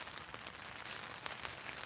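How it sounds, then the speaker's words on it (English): Steady rain falling on a tent, a faint, soft continuous patter with occasional slightly louder drops, heard alone without talk. "Do you guys hear the rain?"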